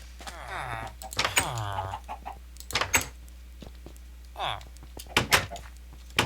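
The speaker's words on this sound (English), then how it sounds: "I can hear the chickens." Chickens cluck softly in the blocky survival game Minecraft, with a few short clucks and clicks scattered through the scene while a person talks over them.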